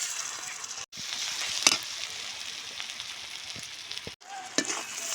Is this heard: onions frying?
yes